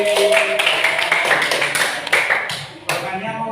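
A small classroom audience clapping hands: a short run of sharp, close claps with uneven rhythm, mixed with a voice talking.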